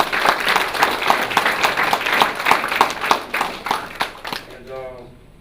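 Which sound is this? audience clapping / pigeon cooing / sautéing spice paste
audience clapping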